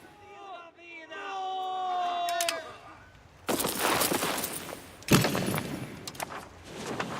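Cannon fire in the strategy video game Europa Universalis V: after a tonal, horn-like opening, a broad rumbling blast erupts midway, followed by a sharper, louder boom and a fading roar.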